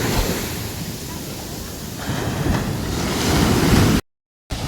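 Ocean surf rolling and breaking on Pondicherry beach at sunrise, a steady broad wash of waves mixed with wind buffeting the microphone, continuous and fairly loud before a brief dropout near the end.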